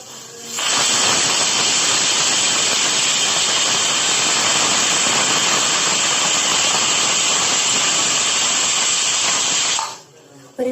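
A pressure cooker whistle blasting out steam while veg biryani cooks, a loud sustained hiss that holds for about nine seconds before cutting off.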